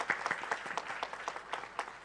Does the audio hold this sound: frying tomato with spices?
no